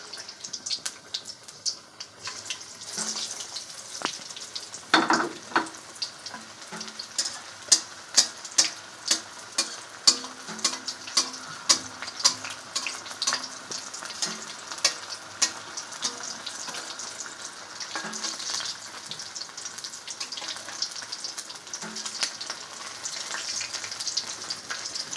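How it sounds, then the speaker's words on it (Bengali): Chicken pieces frying in hot oil in a wok for homemade fried chicken, a continuous crackling sizzle with sharp spatters and popping throughout, close and fairly loud, no talking. "তেল গরম হয়ে গেছে, এবার চিকেন ফ্রাইতে কড়াইতে দিয়ে দিই"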